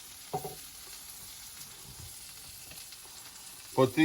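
Wild ramp bulbs fry in a pan with a faint, steady sizzle throughout and a couple of brief louder clatters near the start and end, with no talk.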